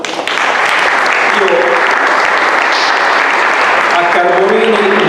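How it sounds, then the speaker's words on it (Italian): An audience at a literary prize award ceremony in Verona bursts into loud, sustained applause. The dense clapping stays steady and close throughout. "Un applauso."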